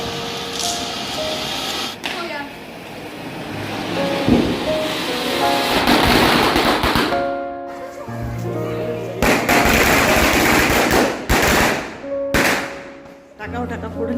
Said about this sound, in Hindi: धीरे धीरे पूरे फ्लैट्स के लोग भी पटाखा फोड़ने के लिए नीचे उतर गए थे।